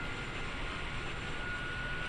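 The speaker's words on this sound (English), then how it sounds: "Takes that APU a hot minute to get fired up" The APU of the iniBuilds A310 airliner spooling up in Microsoft Flight Simulator, heard as a steady, even broadband roar with a faint high whine, constant throughout.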